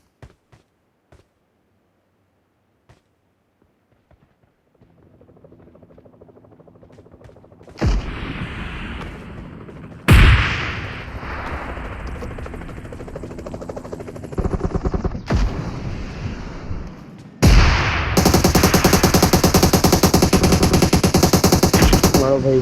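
Bursts of rapid automatic gunfire and shots in the video game PUBG, sparse at first then sustained volleys growing dense and loud, with faint voices in the background.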